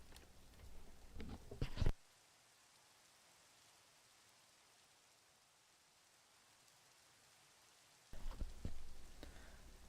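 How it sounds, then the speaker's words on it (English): Rain falls in a Minecraft terraforming session, a soft, steady hiss heard alone through the long middle stretch, with louder broadband bursts at the start and end. "And of course it starts raining"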